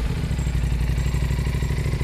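An Aprilia RS 457 motorcycle fitted with a full Akrapovic Evolution exhaust runs close by with a deep, steady, pulsing rumble, its rapid regular firing beat filling the clip.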